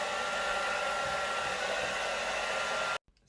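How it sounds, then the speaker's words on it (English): A hair dryer runs on its cool setting, blowing a steady, loud, even whoosh close by for about three seconds before it cuts off abruptly. "I'm just going to grab the hairdryer and just blow it slightly on a cool set"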